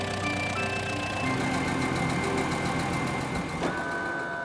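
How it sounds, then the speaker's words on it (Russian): Cartoon cars drive up a ramp into a huge cargo plane with a steady, loud engine drone that runs unbroken throughout, layered with sustained tonal hums. "Машины заезжают в самолет по трапу."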